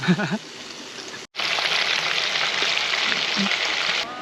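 Food sizzling in a pan at a campsite on the Santiago pilgrimage route, with onions and mushrooms mentioned, giving a loud, steady, close crackle of frying after a brief bit of talk.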